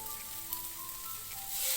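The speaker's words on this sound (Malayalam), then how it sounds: "ഇനി നമുക്ക് ഇതിലേക്ക് ഒരു കപ്പ് കഞ്ഞിവെള്ളം ഒഴിച്ചു കൊടുക്കണം" Rice water poured into a pan of bitter gourd frying in oil, giving a steady close sizzle that swells toward the end.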